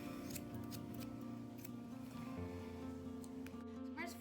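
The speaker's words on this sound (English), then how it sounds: "We'll try the bigger scissors to get inside." Grooming scissors snip repeatedly at the fur on a dog's paw, crisp close-up cuts coming in quick irregular bursts over a faint background hum.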